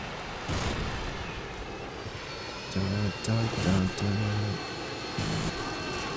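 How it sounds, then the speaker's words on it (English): Harrier jets fly over in the video game Call of Duty: Modern Warfare II, a loud engine roar mixed with explosive rumbles and game effects. A short tonal beeping sounds partway through. "Friendly Harriers inbound."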